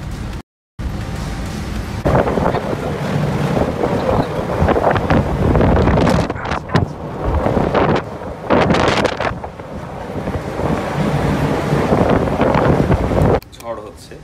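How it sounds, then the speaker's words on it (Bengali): Strong storm wind buffets the microphone aboard a rolling ship on the Atlantic, a loud continuous roar with surging gusts and rushing water, broken by a brief dropout near the start. "বাইরে অন্ধকার হয়ে এসছে, প্রচণ্ড বাতাস আর বৃষ্টি, রোলিং হচ্ছে জাহাজ, দুলতেছে জাহাজ"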